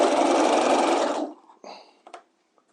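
A sewing machine stitching a half-inch fabric seam with back tacking runs in a loud, fast, even whir for over a second, then stops, followed by a few short clicks and handling noises.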